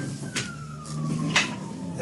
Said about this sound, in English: The sirens are out again.